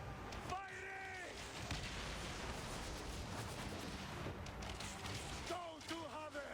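Cannon fire roars as dense, continuous rumbling noise in a ship battle in Assassin's Creed Origins, with brief shouted voices near the start and end.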